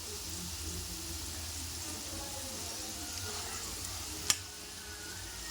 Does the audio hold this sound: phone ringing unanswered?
no